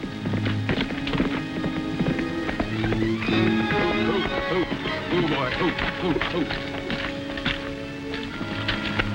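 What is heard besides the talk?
horse running, hooves clip-clopping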